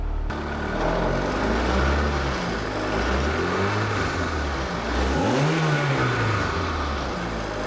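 Engine of a Mk1 VW GTI running again after sitting unused for more than 15 years. It idles close by, with a few swelling revs rising and falling and no talking.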